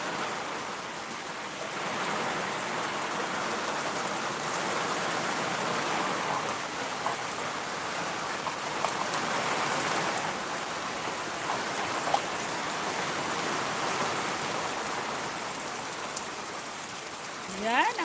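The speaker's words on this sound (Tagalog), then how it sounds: "Masarap maligo sa ulan at inian." Steady rain falls on a farm, a dense, even hiss of drops with runoff from a rain gutter, continuous and close for the whole stretch.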